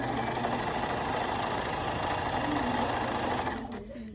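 A sewing machine stitching slowly through a thick denim jean bag, a loud continuous mechanical whir and rapid needle chatter that holds steady close up, then tapers off at the end.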